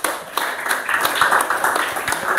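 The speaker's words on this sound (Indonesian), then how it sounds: "jika tidak kita berikan tepuk tangan untuk kelompok 2." A classroom of students claps for a presenting group, with moderately loud, uneven clapping and a faint murmur of voices mixed in.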